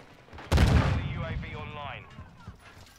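A single loud, close shotgun blast in Warzone 2 on Ashika Island, followed by a long ringing decay with mechanical rattles, while someone talks over it.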